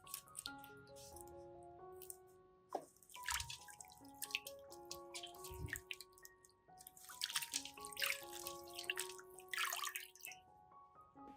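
Green onions soak in a bowl of water with baking soda, giving soft close drips, splashes and wet squishing as the stalks shift and are handled. The sounds are quiet and scattered, with no voices.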